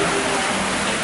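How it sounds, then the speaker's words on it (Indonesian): Rain falling steadily during a trip in Chiang Mai, Thailand, a dense, even hiss of drops that fills the whole moment without a break. "it's raining"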